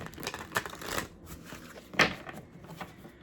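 Quiet shuffling of cards, a few soft riffling bursts and light taps at an irregular pace, close but faint.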